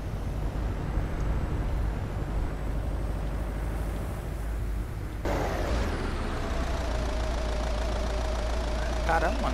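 In Euro Truck Simulator 2, a 2019 Corolla's knocking engine idles as a low, steady rumble. Partway through, a sharp shift brings a harsher, tonal mechanical whine, and the engine noise continues throughout.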